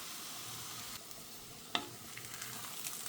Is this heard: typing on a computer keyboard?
no